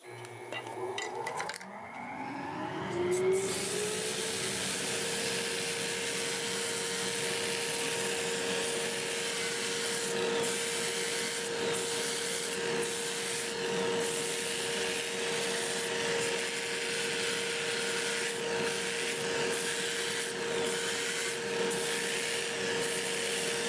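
A dust collector runs steadily beside a wood lathe while a stave-built turning is sanded, a constant loud whoosh with faint scraping and rubbing ticks over the top and no talking.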